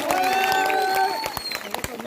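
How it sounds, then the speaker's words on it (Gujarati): Crowd at a Gujarati political rally breaks into loud applause and cheering, a dense burst of claps that gradually thins toward the end, with no speech over it. "એકવાર જોરદાર તાળીઓ પાડો"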